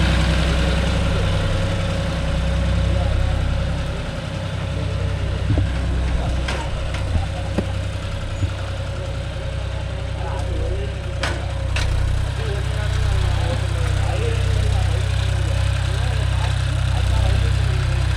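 A John Deere 5050D tractor engine running steadily on farmland, a loud close diesel rumble that holds constant throughout with faint mechanical clanks over it.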